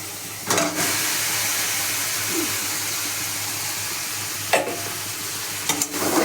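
Chicken and potatoes stir-fry with spices in a wok, producing a loud, steady sizzle with a few sharp scraping stirs of the spatula.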